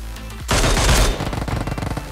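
A loud, close burst of rapid automatic gunfire from enemies in the battle royale game BGMI, then a run of quicker, slightly fainter shots, with no talking.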